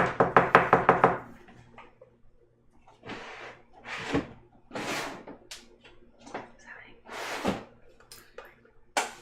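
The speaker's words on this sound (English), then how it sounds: "And there's a store that like knock at the door like." A rapid burst of about seven loud knocks on a door opens the sequence, followed by a voice talking over a quiet background.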